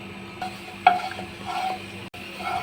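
Mustard oil heating in a wok makes a quiet, close sizzle. A short metallic clink and a light scrape from stirring can be heard, with no voices.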